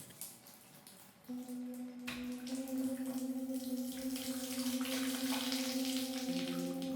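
A shower runs steadily for several seconds as someone finishes washing, the water hissing at close range and building in strength after a soft start, with a faint tonal hum beneath the spray.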